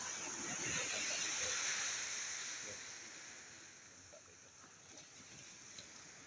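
A seashore by a coastal village with boats, where waves make a dense, close rush that is loud at first and then gradually settles into a softer steady wash.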